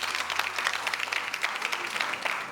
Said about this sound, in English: I'm looking at a bunch of young people who are clapping their hands